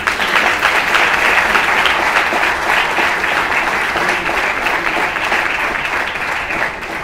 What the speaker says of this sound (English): I think Office deserves some round of applause,